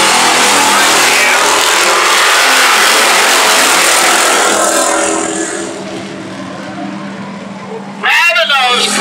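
Street stock race cars racing in a heat at the 2018 Oxford 250, a loud, sustained roar of engines passing close by, easing slightly toward the end as a voice comes in over it.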